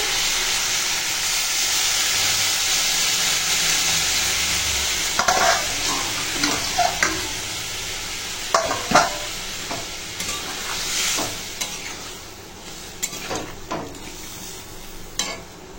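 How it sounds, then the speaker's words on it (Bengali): Water poured into sautéed Bengali curry with jackfruit seeds, potatoes and prawns, loud steady sizzle and steam hiss at first, then settling into scraping spoon strokes and softer bubbling; no voices. "এখন কষানো হয়ে গেছে, দিয়ে দেব জল।"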